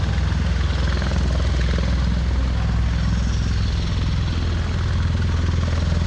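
Osprey tiltrotor aircraft making a vertical takeoff at an airshow, a loud continuous rotor throb and engine roar with steady low pulsing, close and unbroken throughout.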